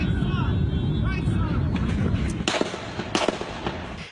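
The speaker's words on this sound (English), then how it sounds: "Shots being fired, and there are people running" Rapid gunfire from a shooting in Alexandria, captured on a cell phone: a burst of sharp cracks that are faint and distant under a noisy, rumbling background, with voices mixed in.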